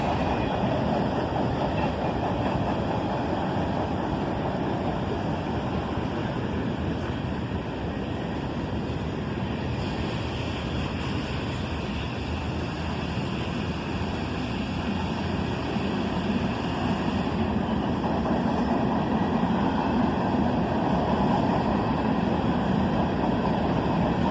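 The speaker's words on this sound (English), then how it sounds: "And a big cut of covered hoppers there." A CSX freight train of covered hopper cars rolls past in the cold, a steady broad rumble and rail roar that holds constant throughout with no voices.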